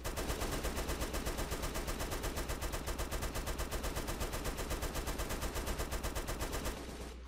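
Rapid automatic gunfire from a DayZ-style survival game in MTA runs in a steady, unbroken burst of closely spaced shots, loud and continuous, cutting off near the end.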